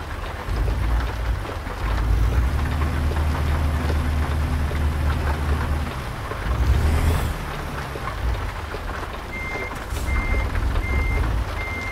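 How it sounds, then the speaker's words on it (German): Loud, steady rain hammering down in American Truck Simulator, a dense hiss under a low rumbling truck engine, with a series of reversing beeps sounding near the end. "Der Regen ist ziemlich laut."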